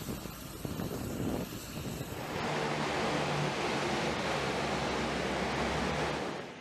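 Massive US Navy LCAC hovercraft carrying Marines and vehicles from a ship's well deck to shore: a loud, steady roaring rush of fans and engines that swells after a couple of seconds and holds, with no voices.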